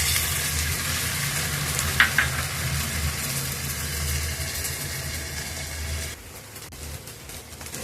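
Mixed fried rice with mutton, chicken, egg and prawn sizzling in a hot pan, a steady close frying hiss with a low rumble beneath, one brief scrape, then quieter from about six seconds.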